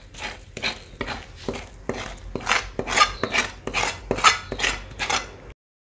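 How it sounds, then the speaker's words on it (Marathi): A metal spoon scrapes a cooked gram-flour zunka mixture out of a wok onto an oiled plate, about a dozen loud, rhythmic rasping strokes close up, then stopping abruptly. "आता हे कढईतील मिश्रण आपण या ताटामध्ये टाकू"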